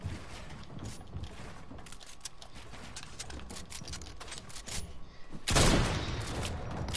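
Gunfire in a first-person shooter game, a burst of shots rising abruptly near the end over a busy bed of game sounds and clatter.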